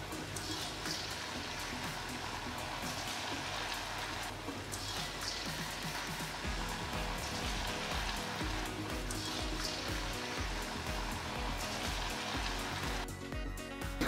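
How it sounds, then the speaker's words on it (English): Churros deep frying in hot oil, a steady dense sizzle and bubbling crackle that runs on continuously and loud, with no talking. "Now it's time to deep fry them."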